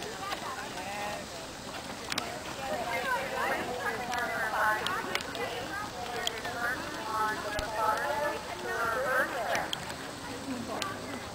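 Horse hooves clip-clop at a steady walking pace outdoors, moderately close, while people talk over the sound throughout.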